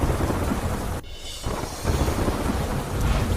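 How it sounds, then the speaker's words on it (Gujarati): Heavy monsoon downpour in the Mangrol area of Surat, Gujarat, a dense, steady roar of rain close by that dips briefly and then returns at full strength, with no voices. "સુરતના માંગરોળ પંથકમાં ધોધમાર વરસાદ"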